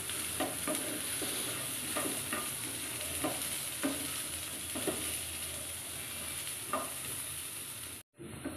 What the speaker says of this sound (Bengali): যতক্ষণ খোসাটা চুপসে চুপসে যায় ততক্ষণ এটা ভাজতে থাকবো